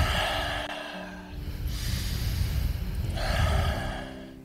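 Slow, audible breathing during a seated stretching exercise, with a long sigh-like exhale and gasping inhales in a quiet room, no talking.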